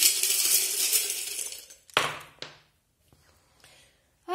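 Small tarot charms are cast, giving a dense rattling shake, then a couple of sharp clinks as they land, followed by a few faint ticks.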